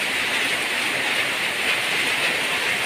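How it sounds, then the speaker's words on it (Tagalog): Heavy rain pours down in a dense, steady hiss that fills the air without a break, loud and unbroken with no voices. "Lakas ng ulan."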